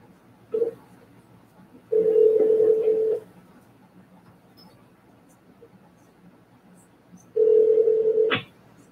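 Phone keypad tones sound while a call is placed: one short beep, then a sustained tone of about a second, then another long tone that ends in a click. The room is quiet around them.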